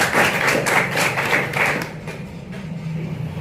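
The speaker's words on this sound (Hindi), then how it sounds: "एक बार ताली बजाए।" An audience at an indoor business seminar claps together on cue, a quick run of rhythmic claps for about two seconds that then fades into room noise.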